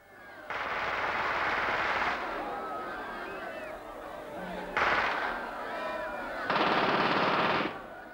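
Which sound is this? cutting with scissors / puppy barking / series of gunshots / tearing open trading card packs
series of gunshots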